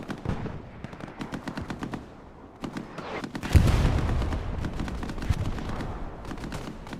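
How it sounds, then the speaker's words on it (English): Rapid machine-gun bursts and gunshots in Hell Let Loose, artillery fire pounding positions on the Driel map, a dense volley swelling around the midpoint and heavy firing continuing to the end. "Artillery pounding some of the Exo OPs."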